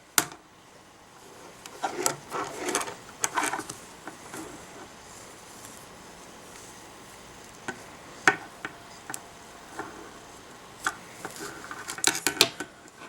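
Knitting needles working a row with a lifeline threaded through: soft, close clicks and light rubbing taps come in irregular bursts over a faint background, with no talking.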